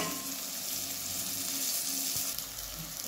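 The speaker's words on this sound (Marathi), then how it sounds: "आता बघा मसाला आपला चांगला भाजलाय बघा।" Spices roasting and sizzling in a hot pan with curry leaves, coriander and fried peanuts while poha is prepared, giving a steady, close frying hiss throughout.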